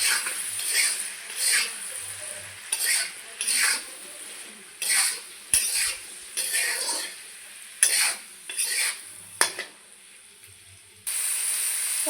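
Spiced raw mango pickle mixture with salt, turmeric and chili powder being stirred, bursts of wet scraping and clinking against the bowl in uneven strokes, with brief gaps between them.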